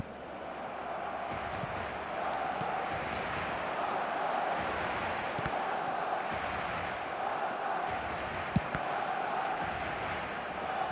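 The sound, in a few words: stadium crowd cheering in eFootball video game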